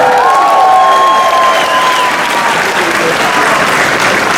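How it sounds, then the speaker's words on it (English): Loud, sustained applause and cheering from a packed Comic-Con panel audience in San Diego, filling the hall steadily from start to finish with faint whistles early on. "I want to hear applause in the far back."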